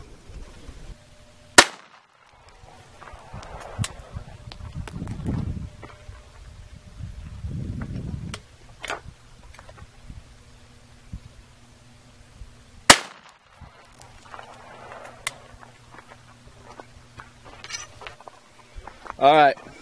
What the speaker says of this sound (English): Now we're going to shoot the 9mm 5-inch.